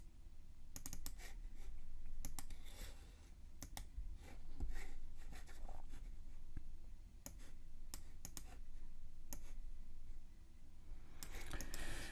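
Keys clatter on a computer keyboard in quick irregular bursts of clicks and taps, fairly faint and close, over a steady low background hum, with no talking.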